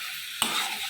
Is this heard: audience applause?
no